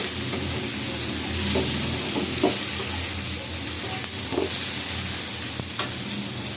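Tomato, onion and spices frying and being stirred in a pan for a hilsa fish curry, a steady close sizzle with occasional scraping stirs, no talk.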